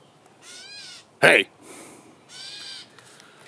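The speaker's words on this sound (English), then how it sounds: "I think it's called a cat bird, because it sounds like a cat" Mewing, cat-like gray catbird calls sound in short bursts, interrupted by a brief loud spoken word in the middle.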